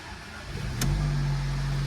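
A Mercedes car engine cranks and catches partway through, then settles into a steady, loud idle hum, close by, with no talking.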